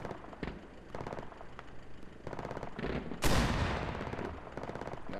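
Rapid video game gunfire in bursts through a chaotic online war shooter, with short volleys followed by a loud close blast that decays slowly, and no voices.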